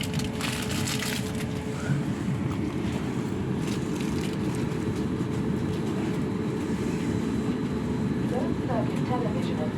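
A passenger train runs from Portsmouth and Southsea to Southampton Central, giving a steady, loud rumble and rolling rail noise throughout, with faint chatter and brief squeaks toward the end.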